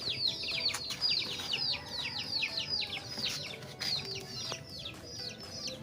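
Chickens clucking and calling around a feed container as feed is put in, with repeated high chirpy calls and clucks layered close by throughout, no talk.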